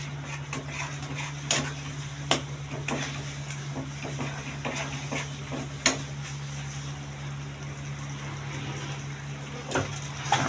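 Pumpkin barfi mixture starts to bubble in a pan with a soft, continuous hiss and sizzle over a steady low hum, punctuated by a few light clinks of a utensil against the pan. No voices are heard.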